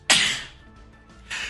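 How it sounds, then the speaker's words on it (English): A sharp, loud sneeze bursts out close to the mic, followed a second later by a softer second sneeze or snort, with no talking. "Whenever I hear my sneezes back on video, they sound so weird"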